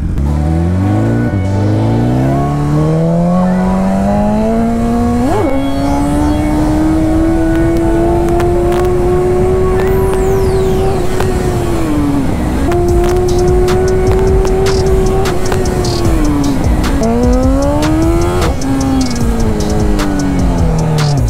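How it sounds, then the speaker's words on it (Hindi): A BMW S1000RR motorcycle engine revs hard and continuously during a wheelie, its pitch climbing, dipping briefly and surging again. The loud, strained whine carries on throughout with no talking. "भाई साहब क्या ज़बरदस्त मशीन है वाह मज़ा आ गया भाई चलो व्हीली चेक करते हैं भाई इस पर"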